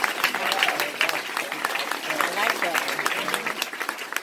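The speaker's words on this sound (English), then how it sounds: "Clap your hands like you just caught that." A crowd at a live motivational event claps their hands, a busy, uneven patter of many claps with some voices mixed in, continuing steadily throughout.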